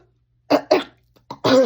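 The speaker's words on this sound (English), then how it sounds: "Sorry for that cough." A woman coughs several times up close: two quick sharp coughs, a pause, then a smaller one and a longer rasping cough to finish.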